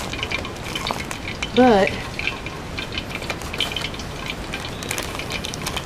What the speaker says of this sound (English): the grease is making plenty of noise